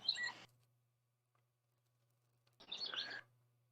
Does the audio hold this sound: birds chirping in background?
yes